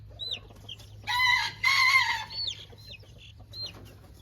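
Young game cross rooster and chicks in a brooder: short high peeps scattered throughout, broken by two loud, raspy crowing bursts in the middle, over a low steady hum.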